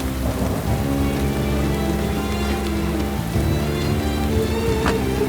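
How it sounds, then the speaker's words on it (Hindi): Heavy rain pours steadily onto a surface in a thunderstorm, a dense continuous hiss joined by low rolling thunder rumbling underneath, with no voices. "बारिश बहुत तेज है"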